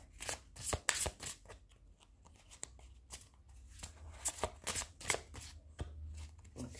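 Tarot cards are shuffled and drawn by hand: a run of crisp riffling bursts and sharp card snaps at an irregular rhythm, close and fairly quiet, with a faint low hum underneath.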